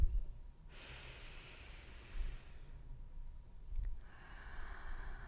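Slow, deep breaths during a guided breathing meditation, each long inhale or exhale a soft, airy rush close to the microphone, two full cycles heard alone without talk.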